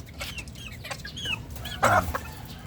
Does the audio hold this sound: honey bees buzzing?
no